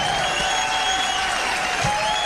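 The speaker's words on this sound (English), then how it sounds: "let's give a round of applause" Steady crowd applause and cheering fills the whole stretch, a dense continuous wash of clapping with no pauses and no talk over it.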